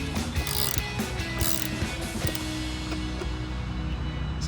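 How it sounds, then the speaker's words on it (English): A ratchet with a 13 mm socket tightens the bolt of a rectangular adventure mirror on a Jeep Wrangler, a steady run of close, fast pawl clicks and mechanical rattling with no talking. "Use your 13 mil to tighten it up."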